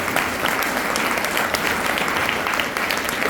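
An audience at a chartered accountancy awareness program gives loud, dense applause to welcome a speaker, with steady clapping from many hands throughout.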